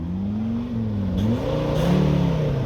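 A Volvo car engine, run without air cooling or lubrication, revs up and down, its pitch rising and falling in a rough, steady drone, loud and close, with no talking.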